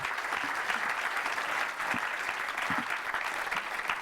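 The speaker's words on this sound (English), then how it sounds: "I think we can applaud them a lot." An opening-ceremony audience claps together in a steady, even burst of applause that runs the whole length without a break, with only a few soft voices beneath.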